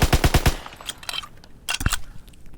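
An M3 grease gun fires in Call of Duty WWII, a quick burst of five loud, evenly spaced shots, then quieter game clatter and a single sharp report a moment later.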